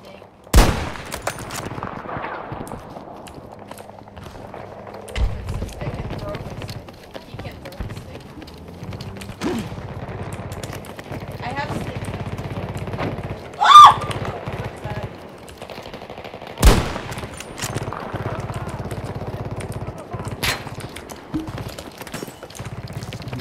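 Sporadic gunfire in the video game Battlefield, with sharp shots and bursts scattered over a steady background rumble, and voices talking throughout.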